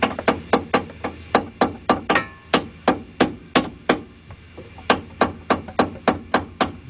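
A hammer drives a front strut part into place on a 2008 Ford Fusion. Sharp, loud metallic knocks land in steady, evenly spaced runs, a brief pause separates two bursts, and no one speaks.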